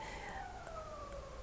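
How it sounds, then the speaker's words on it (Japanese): A police car siren wails faintly in the distance outside, its tone sliding steadily downward. "なんか外でパトカーが鳴ってるんですけど"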